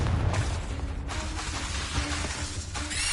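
A Confringo fire spell from the Hogwarts Legacy video game bursts in a muffled blast, then a dense crackling, whooshing rumble with a second surge midway, moderately loud and alone.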